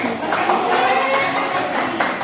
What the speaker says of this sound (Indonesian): Yuk, tepuk tangan untuk kelompok Nurdi